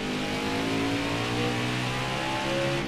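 Race truck engine in NASCAR Heat 5 at Road America, held in second gear and revving steadily and loudly, with a rising pitch sweep and no talk.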